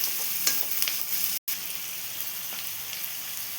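Tomatoes are stirred and mixed in a frying pan for Karnataka-style girmit mandakki, with a steady, close, bright sizzle and light scraping throughout, broken by one brief dropout.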